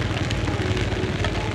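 Heavy rain pours down on a night market in Da Lat, a dense steady hiss of drops striking surfaces, close and unbroken throughout.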